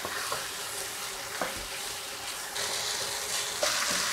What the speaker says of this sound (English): it seems it's been sauteing pretty good